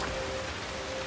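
Steady rain patters down in a war-ravaged town in a video game, a dense even hiss of drops with a faint tonal hum underneath and no voices.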